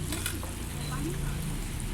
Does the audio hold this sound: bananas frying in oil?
yes